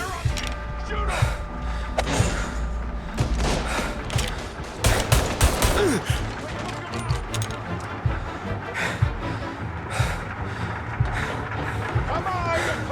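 Gunfire in the video game Mafia Definitive Edition, a dense firefight of repeated sharp shots with mechanical clatter, continuing through the whole stretch alongside shouted voices and game ambience.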